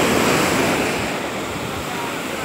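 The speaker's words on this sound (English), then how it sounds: "This is how the waves are, really strong." Loud, rushing surf from strong waves on the beach at Stalida in Crete, a steady wash of breaking water mixed with wind noise that eases slightly toward the end.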